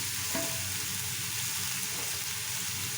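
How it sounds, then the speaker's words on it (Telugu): Bottle gourd pieces fry in a pan with turmeric while being stirred, giving a steady, close sizzle with soft scraping, alone and even throughout. "ఇప్పుడు ఒక్క తడవ మొత్తం కలుపుకొని కొంచెం పసుపు వేసుకోండి."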